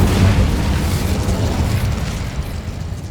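Incendio fire spell cast in Hogwarts Legacy, a loud, deep roaring blast that hits at once and rumbles steadily for about three seconds without fading much.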